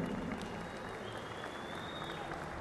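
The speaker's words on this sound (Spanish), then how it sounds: "yo quiero que el público que todavía nos acompaña dé un gran aplauso" Audience at a trotting and galloping mare championship in Bucaramanga applauding, a dense continuous wash of clapping from a crowd, fairly distant and even throughout.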